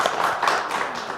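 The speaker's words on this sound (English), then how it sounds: "let's give them all a round of applause" Audience clapping for the children, a short steady patter of many hands at moderate distance.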